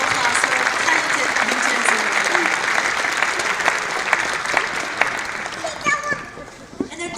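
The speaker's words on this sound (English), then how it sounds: "Please give a round of applause for our talented" Audience applause for talented interns at a Chinese New Year 2019 community celebration, dense and sustained before thinning out, with children's voices and chatter rising beneath it near the end.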